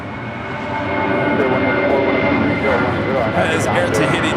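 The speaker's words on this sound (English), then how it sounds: "Air Tahiti Nui Flight 7 will be heading to Papeete, 787-9 Dreamliner" An Air Tahiti Nui Boeing 787-9 Dreamliner departs Los Angeles International Airport, its jet engines a rising, sustained roar heard from a distance, with voices talking over it.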